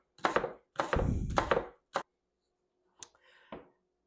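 A knife slicing peeled, halved onions thinly from pole to pole on a cutting board, heard as a few close, crisp chopping strokes in short bursts separated by pauses.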